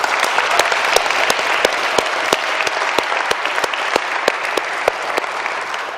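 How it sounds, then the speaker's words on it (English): Sustained applause from an audience at a university lecture event, dense steady clapping with a few sharper individual claps standing out, loud and continuous throughout with no talking. "Can we give all the volunteers and all the organizers a round of applause?"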